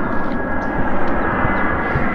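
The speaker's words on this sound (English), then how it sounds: "Plane." An airplane passes overhead above a 55+ mobile home park neighborhood in Cathedral City, close to the airport, with a loud, continuous engine roar that holds steady throughout.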